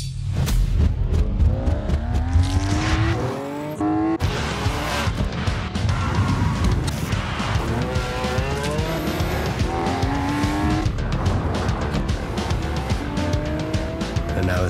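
Lamborghini Aventador SV accelerating at full throttle, a loud engine roar climbing through rising pitch sweeps with gear changes, mixed with tire squeal and heavy rumble, running continuously throughout.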